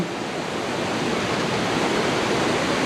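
A steady, dense roar of falling water from a waterfall in Betong, Thailand, during the dry season, fills the clip, loud and continuous without a break, heard from close by.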